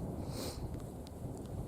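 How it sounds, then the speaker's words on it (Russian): Strong wind gusting beside a river in the countryside, a steady broadband rush with no clear breaks that fills the whole stretch at a moderate level. "Сильный ветер здесь возле речки."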